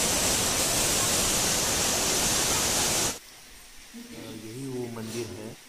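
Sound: large waterfall at Muktagiri

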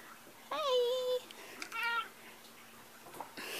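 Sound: cat squeaking

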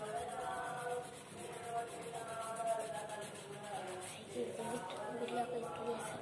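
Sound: finger rubbing to blend pencil shading on paper

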